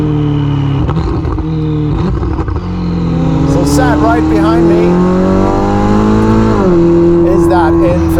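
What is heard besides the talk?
Novitec Ferrari SF90 Spider twin-turbo 4-litre V8 engine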